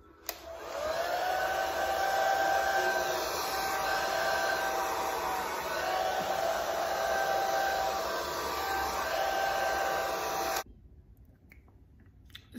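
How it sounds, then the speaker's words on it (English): A hair dryer blows steadily on faux locs, a loud continuous whooshing hum with a tonal whine that runs for about ten seconds, then cuts off abruptly, leaving quiet room noise. "now I'm gonna blow dry it down"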